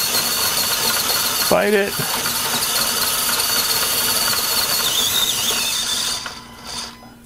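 Small electric motor of an Axial SCX24 1967 Chevy C10 micro RC crawler whines steadily as it drives over a course, close and fairly loud, with a brief burst of speech and the motor fading near the end.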